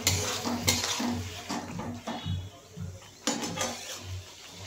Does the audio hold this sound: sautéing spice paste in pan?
yes